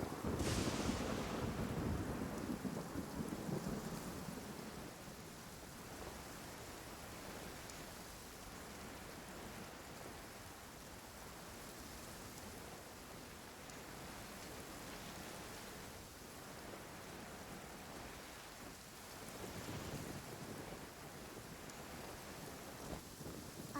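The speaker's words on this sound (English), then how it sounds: "Quite a downpour." Heavy rain pours down in the video game Genshin Impact, a steady, dense hiss with a windy, surf-like roar that stays even throughout and swells slightly toward the end, with no voices.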